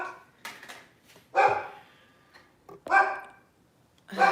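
A dog barking at the mailman: three loud, close barks spaced about a second and a half apart, with faint softer sounds in between.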